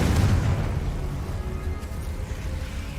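A Confringo fire-blast spell in the video game Hogwarts Legacy goes off as a loud, low booming burst at the start, then trails into a rumbling decay with steady low-end roar.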